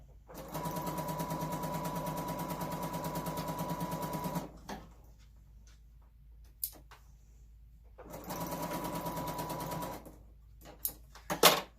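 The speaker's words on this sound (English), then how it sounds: "I'm going to sew the other piece on before" A sewing machine stitches fabric pieces together in two runs of fast, even mechanical whirring and ticking. The runs are separated by a quiet pause with a few soft clicks and handling knocks, and more clicks follow at the end.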